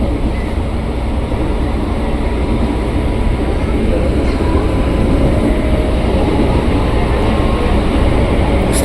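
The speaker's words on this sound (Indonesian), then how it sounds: "ini kita papasan sama komuter yang tujuan Jatinegara, Kampung Bandan via Manggarai" KRL commuter train bound for Jatinegara via Manggarai rumbles past continuously and loudly, with a steady roar of wheels and carriages close by.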